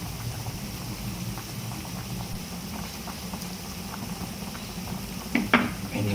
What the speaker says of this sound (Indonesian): Sambil menunggu air di frying pan-nya mendidih